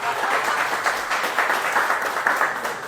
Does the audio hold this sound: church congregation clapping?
yes